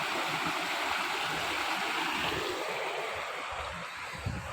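Water rushes steadily out of an opened outlet in a farm field, a close, continuous gurgling flow with no voices.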